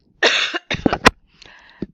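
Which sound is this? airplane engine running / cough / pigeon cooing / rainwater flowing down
cough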